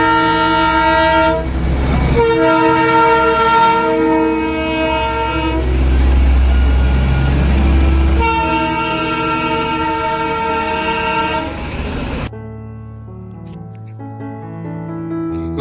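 The Darjeeling toy train runs nearby with loud rumbling and rolling rattle while its horn blasts repeatedly in long tonal bursts, ending on a sustained horn note.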